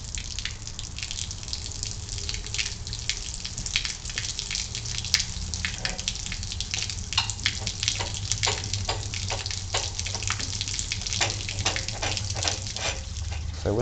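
Water running into a Coventry Climax fire pump, a continuous close hiss and splash with dripping and gurgling pulses that grow busier toward the end.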